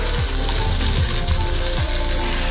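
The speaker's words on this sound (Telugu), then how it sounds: "ఇప్పుడు దీంట్లో దొండకాయ ముక్కలు వేస్తాం. ఇవి కూడా బాగా ఫ్రై చేసుకోవాలండి" Ivy gourd pieces frying with onions in a pan: a loud, continuous crackling sizzle with a few low stirring scrapes underneath.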